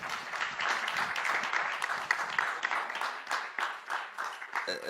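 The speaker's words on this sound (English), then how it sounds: "Let's give this panel a round of applause," An audience claps for a conference panel on securitising non-performing loans for African banks: moderate, uneven applause with distinct individual claps that rises and falls for several seconds, without speech.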